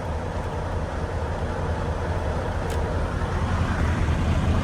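A Detroit DD13 diesel truck engine idles steadily with a constant low rumble and broadband hum, close and continuous throughout, with no voices.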